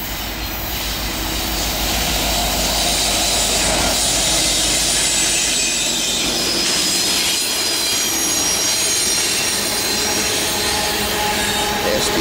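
A Norfolk Southern manifest freight train led by an SD70ACe and an ex-CSX Dash 8 locomotive rolls past close by, with loud continuous rumbling, rattling cars and shrill wheel squeal rising and falling as the wagons go by.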